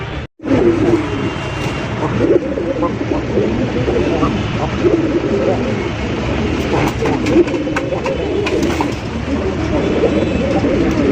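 Pigeons coo steadily in a loft holding fancy racer and giribaz birds, including a male and female pair, with overlapping low cooing calls continuing throughout amid crowded background noise and some talk.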